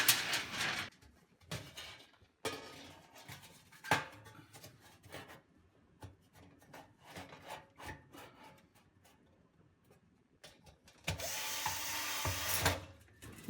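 Screwdriver working four rusty screws out of a Logik oven fan, with intermittent scraping and grinding strokes, clicks and pauses, and a louder rough burst near the end, close and without speech.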